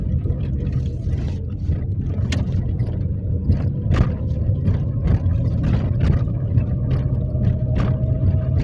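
A car pulls away and drives along a category B driving exam route, its engine a steady low rumble close by with faint clicks and road noise on top.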